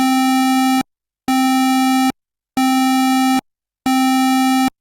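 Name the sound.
synthesizer square wave arpeggio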